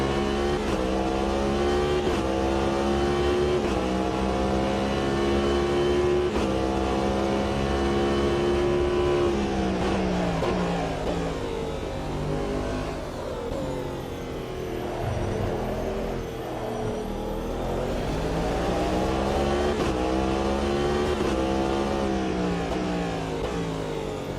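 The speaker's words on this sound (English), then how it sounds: "hear the exhaust note of the car too?" Hypercar exhaust in Le Mans Ultimate, a loud, continuous engine note rising and falling in pitch as the throttle is pressed repeatedly, with revs climbing and dropping over a long stretch and no talking.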